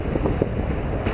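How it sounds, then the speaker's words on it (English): Steady wind roars across the microphone on the Sound side of a beach resort by the Gulf of Mexico, a continuous low rumble with a few gusty swells and no voices. "It's quite windy out here"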